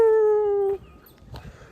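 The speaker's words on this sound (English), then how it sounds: "So I am out walking the little puppies." A single puppy lets out a clear, drawn-out howl that fades into a faint whimper, close by, with no other sound around it.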